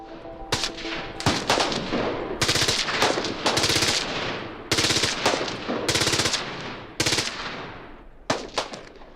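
Gunfire at a desert shooting range during a hacker conference meetup, with rapid automatic bursts and loud repeated shots in clusters, cracking close to the microphone with short gaps between strings of fire.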